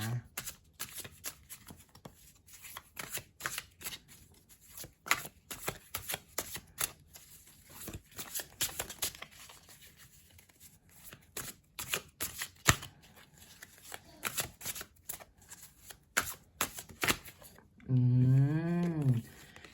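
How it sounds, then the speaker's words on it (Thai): Tarot cards shuffled by hand at close range, a long run of rapid crisp riffling clicks and flutters in uneven bursts, ending in a brief wavering tonal sound. "ขอเริ่มสับไพ่เลยนะคะ"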